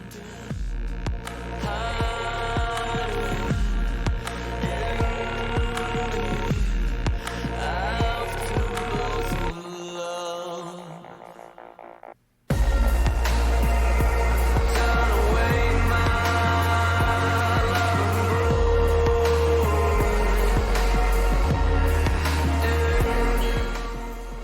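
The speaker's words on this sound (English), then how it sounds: "there's a normal choir, and then on top of it it's the same choir pitched up and I think reversed" A choir layered with the same choir pitched up and reversed forms a dense, loud music bed with throbbing low tones, cuts to a thinner passage near the middle, then returns at full strength after a brief gap.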